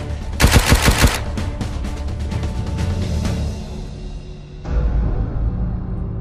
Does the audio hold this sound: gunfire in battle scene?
yes